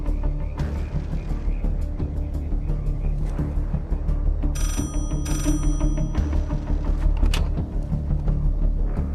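A telephone rings in the middle of a French action film, its bell-like tones coming in short bursts over a busy, loud background of noise and music, with no voices.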